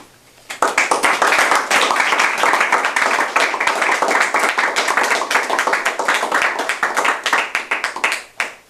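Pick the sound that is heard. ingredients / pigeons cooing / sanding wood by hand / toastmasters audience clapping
toastmasters audience clapping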